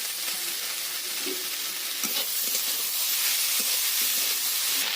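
Ginger paste frying in a small amount of oil, a constant bright sizzling hiss with occasional stirring knocks and scrapes, close and steady, no voices.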